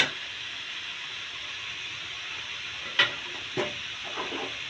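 A pan of beetroot with about a litre of hot milk poured in gets stirred, a soft steady hiss and simmer with a couple of sharp spoon scrapes against the pan, no voices.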